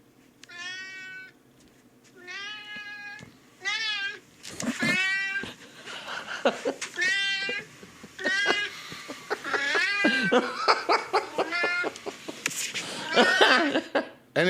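A cat meows over and over in long, wavering calls that come every second or two across the whole stretch. It is fairly loud and close, and a person laughs or talks quietly underneath in places.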